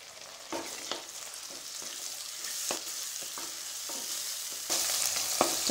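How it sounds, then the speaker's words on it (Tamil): Diced country tomato sautéing with curry leaves in a pan for papad kulambu: a steady oily sizzle, with repeated spoon stirs and scrapes against the pan that grow louder near the end, close and with no speech. "இப்போ தக்காளி வதங்கிடுச்சுங்க."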